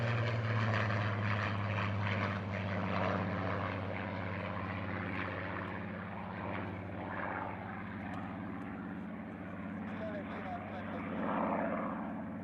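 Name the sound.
North American Mustang and Supermarine Spitfire aircraft engines flying past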